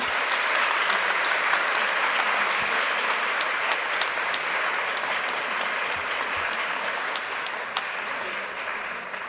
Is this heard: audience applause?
yes